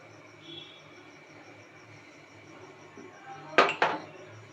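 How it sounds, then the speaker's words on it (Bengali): A kadai is set down on a stove after a quiet stretch, making two quick, close metallic clanks near the end. "এরপর আমি এর মধ্যে বসিয়ে দিচ্ছি কড়াই।"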